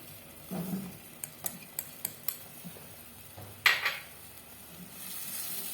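Onion frying in a pot in a home kitchen, a steady low sizzle with a series of sharp metallic utensil taps against the pot and a louder clatter partway through.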